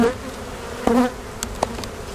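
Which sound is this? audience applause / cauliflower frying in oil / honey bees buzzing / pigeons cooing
honey bees buzzing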